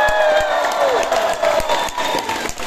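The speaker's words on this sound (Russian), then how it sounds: "Просто поаплодируйте сами себе сейчас." Concert crowd applauding and cheering for itself, a steady wash of clapping with scattered whoops and shouts, moderately loud and close, while a voice sings or speaks over it.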